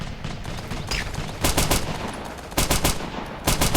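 Gunfire rattles through a beach assault in the video game Operation Flashpoint 2, with several loud bursts of rapid automatic shots set against a constant background din of battle.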